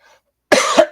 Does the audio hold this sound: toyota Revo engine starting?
no